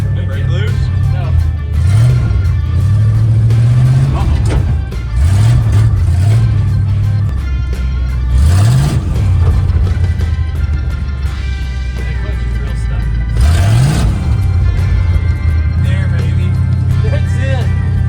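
A 1965 Ford F250 pulling truck engine runs loud and rough while the truck drives, with repeated revs rising and falling over a heavy low rumble, and people talking over it.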